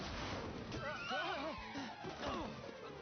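A horse whinnies in the Dragon Quest XI video game, a loud wavering neigh with a crash-like hit mixed in, heard during game action.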